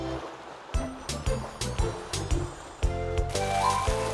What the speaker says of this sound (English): Hey, Skip, maybe you can use your cottontail to swim through the water like the dolphin.